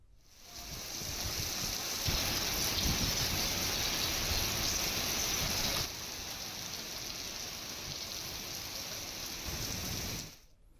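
Heavy rain pouring in Hyderabad, a dense, continuous roar of water falling on surfaces, loud and steady for the whole stretch with a slight drop in intensity midway, no voices.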